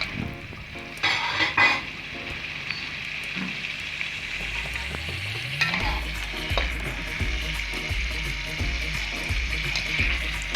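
Chicken frying in a pan for nihari, a steady close sizzle throughout, with clanks of a utensil stirring and scraping the pan and some low rhythmic knocks later on.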